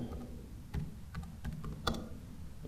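Typing on a computer keyboard while filling in a microproject application form, a steady run of soft, close key clicks with a few louder taps, heard alone with no talk.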